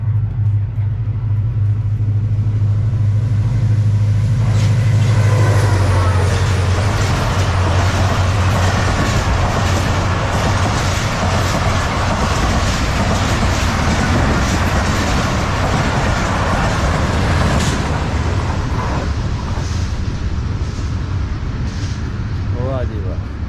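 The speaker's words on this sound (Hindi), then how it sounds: "18 डाउन मिल्लत एक्सप्रेस पास कर रही है जनाब फ़िरोज़ा रेलवे स्टेशन से" Millat Express (18 Down) passing through Feroza railway station in Pakistan, a loud continuous rumble and rattle of wheels on rails as the train rolls by close up, steady throughout with a heavy low drone.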